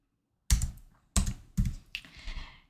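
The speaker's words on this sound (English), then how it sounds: "So in here, I'm just going to type" Keystrokes on a computer keyboard, several distinct taps in an uneven rhythm, close and clear with no talking.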